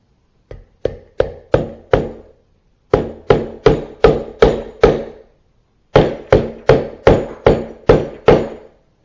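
A part on an overhead valve engine tapped into place with a socket, crisp metallic hammer blows struck in three close groups of roughly five to seven evenly paced hits, with brief pauses between groups.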